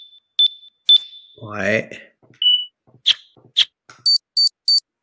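Synthetic alarm beeps from a sound-effect library, several short high electronic bleeps spaced apart, ending in three evenly timed louder tones, with a brief spoken word in between.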